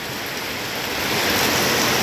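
Rain pours down during a storm in Laos, a dense, steady broadband hiss that swells slightly louder partway through, with no voices.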